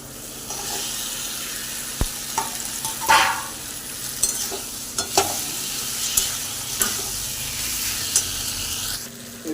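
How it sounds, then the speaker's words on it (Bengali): Boiled potatoes and fried pointed gourd are stirred into sizzling spice paste in a pan; a quiet, steady sizzle runs throughout, broken by several sharp spatula clinks and scrapes, with no talking. "এবার কেটে রাখা সেদ্ধ করা আলুটা আর পটল ভাজাটা দিয়ে দেবো।"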